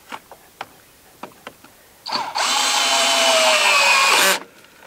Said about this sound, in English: battery drill's got the security coupler on there